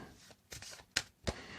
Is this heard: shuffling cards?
yes